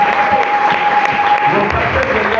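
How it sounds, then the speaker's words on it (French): A church congregation claps in a dense, continuous burst of applause lasting the whole moment, with a few voices mixed in among the clapping. "Acclamez très fort."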